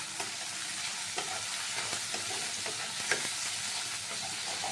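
A steel ladle stirs mung dal in a pan over a constant soft sizzle, with light irregular scrapes and clinks of metal against the pan.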